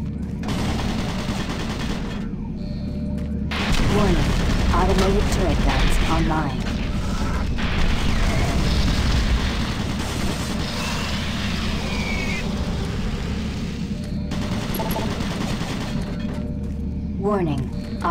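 Automated turret guns in Doom 3 BFG rattle off loud bursts of gunfire in a monorail area, rapid volleys with short gaps and booming impacts, while a computer voice repeats a warning.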